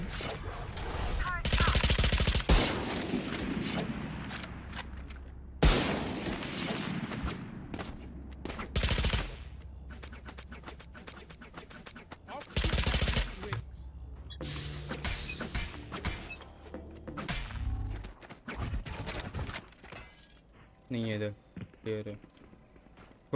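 Gunfire in the shooter game Valorant cracks out in repeated bursts and single shots, with loud clusters across the match, while players talk over it throughout.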